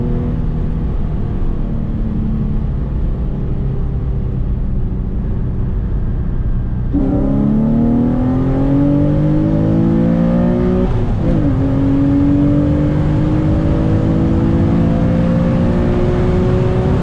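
A Nissan 350Z with a stage 3 clutch accelerates hard from a 40 mph roll, the loud engine drone climbing steadily in pitch, dropping briefly at a gear change, then rising again, with no talk.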